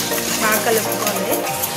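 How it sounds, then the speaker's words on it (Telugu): A bread and sugar mixture is stirred in a cooking pan, making a continuous wet churning and scraping with light sizzling, close and fairly loud throughout. "పంచదార బ్రెడ్ నీట్గా కరిగిపోయే వరకు కలుపుకోవాలి"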